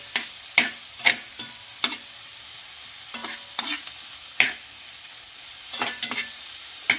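Onions and tomatoes fry in a pan with a soft continuous sizzle, punctuated by repeated sharp scrapes and taps of a utensil stirring them.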